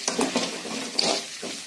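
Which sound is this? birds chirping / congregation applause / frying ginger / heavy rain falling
frying ginger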